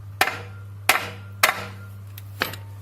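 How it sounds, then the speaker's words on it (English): Big heavy hammer striking a car's oil drain plug, four sharp metallic blows at uneven intervals over a steady low hum, close and fairly loud. "What you want to do first is to hammer it with a big hammer,"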